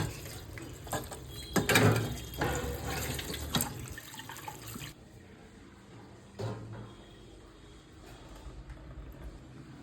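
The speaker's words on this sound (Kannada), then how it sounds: "ಇದನ್ನು ವಾಶ್ ಮಾಡೋಣ" Banana flower rinsed under a running kitchen tap, water splashing and gushing loudly for the first few seconds, then quieter trickling and a brief splash, with no talking.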